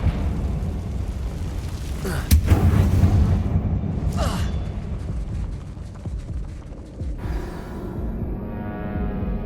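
A Confringo blasting spell explodes in an abandoned mine in Hogwarts Legacy. A sharp blast is followed by a rumbling roar, a second fainter burst, and then low, continuous debris and ambient rumble.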